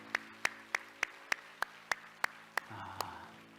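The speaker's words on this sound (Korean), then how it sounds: "우리 하나님께 영광의 박수합니다." Small congregation in a church giving a round of applause, heard as about ten sharp, evenly spaced single claps in a quiet room, with a faint murmur of voices near the end.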